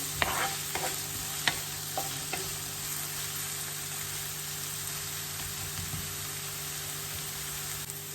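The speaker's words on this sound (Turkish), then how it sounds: "Şöyle üzerine bir tutam tuz atalım ki soğanları çabuk pembeleşsin. Hemen karıştıralım tekrardan." Onions sprinkled with a pinch of salt fry in a pan, giving a continuous close sizzle, with a few sharp spoon taps and stirring scrapes early on and a low steady hum behind.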